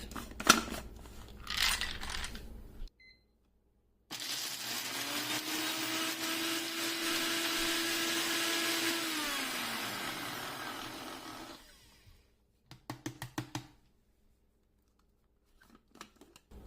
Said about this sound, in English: So next I'll blend the dry spices, which are the uda seed and the Ewuru seed.